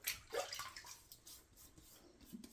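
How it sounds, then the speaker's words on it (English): Water is splashed by hand onto the hands and arms at a sink before a wet shave with a safety razor, heard as quiet, brief splashes and drips, faint and close, with no talking. "let me splash a little water"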